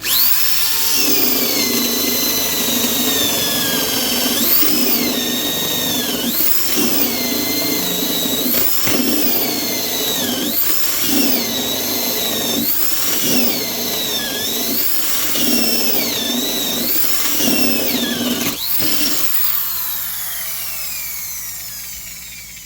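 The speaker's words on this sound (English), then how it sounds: "Might as well do our obligatory 1-inch spade bit little demonstration here" Makita 6402 Pro Series 3/8-inch high-torque drill boring through wood with a 1-inch spade bit, a loud steady whine that rises and dips in repeated pulses as the bit bites and clears, ending as the motor winds down.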